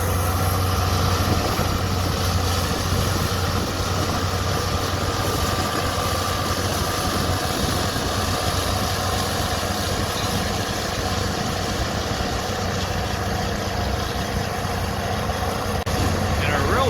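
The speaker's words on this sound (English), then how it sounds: "Big Alice 220 with a John Deere plow" Allis-Chalmers 220 tractor pulling a five-bottom John Deere plow, its heavy engine droning steadily and loudly throughout, with a faint voice mixed in at times.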